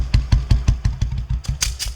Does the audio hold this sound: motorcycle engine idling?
yes